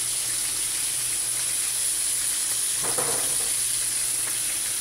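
Cabbage going into a pot of simmering pork ribs lomi, a steady bubbling hiss throughout with a brief soft rustle of the leaves dropping in partway, no voices.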